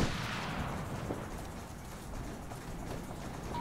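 Gunfire in the war shooter Operation Flashpoint: Red River, a sustained fusillade of distant and mid-range shots blending into a continuous rumbling roar.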